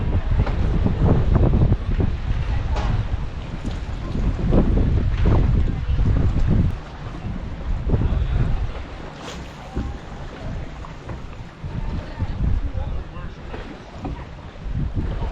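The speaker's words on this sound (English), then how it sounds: "Wind's coming in from the west" Steady strong wind blowing over Balsam Lake, roaring and buffeting close to the microphone in gusts throughout, with someone talking underneath.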